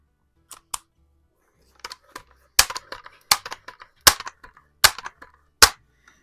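A Daisy model 822 .22 caliber multi-pump air rifle fires in a garage, a series of sharp, close cracks spaced about a second apart, each followed by short clicks and rattles of handling.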